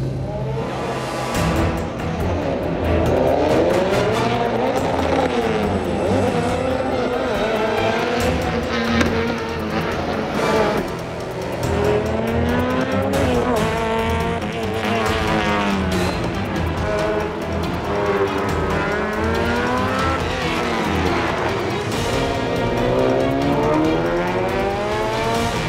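A car skids through rally-style driving, its tires squealing in long, wavering, rising and falling tones over a loud, steady engine roar, close and continuous with no talk.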